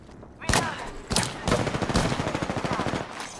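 Gunfire in Apex Legends: a few sharp single shots, then a rapid burst of automatic fire crackling away steadily before trailing off, close and loud with no voices over it.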